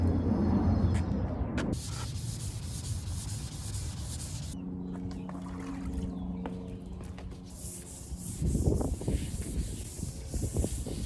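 Wet sanding of Rustoleum Turbo paint by hand with 320-grit wet-and-dry sandpaper that is clogged, giving a steady close scrubbing rub throughout with a few quieter pauses and a brief rise near the end.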